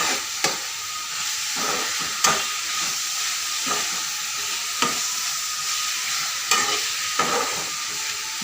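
Mushrooms and green chillies sizzle steadily in a pan for a mushroom curry. A constant soft frying hiss runs throughout, broken by several sharp scrapes and clinks as the spoon stirs, with no talking.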